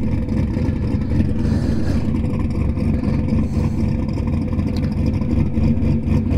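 A Harley-Davidson motorcycle engine revs at a quarter-mile drag strip to warm up the tires, a loud, steady, close rumbling roar that holds throughout with no talking.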